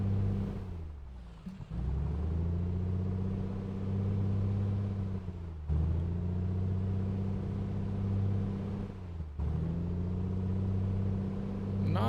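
A2A Comanche piston engine in MSFS 2024 holds a steady drone, dipping in pitch and rising back several times as the propeller is cycled through its range.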